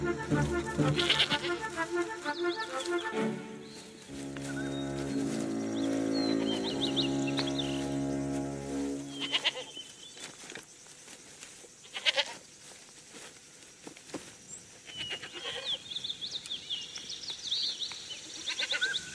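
A goat bleats several times in a Robinson Crusoe adventure film scene, with loud, wavering cries near and clear at the start, a sustained musical passage in the middle, and further bleating and rustling afterward.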